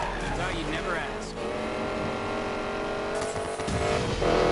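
A BMW tearing along at speed in the racing game Need for Speed Payback, its engine roaring steadily and close up throughout, with voices talking over the drive.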